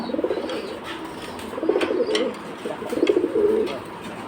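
Pigeons coo at a pigeon market, several soft throaty bursts of cooing rising and falling close by over a murmuring background.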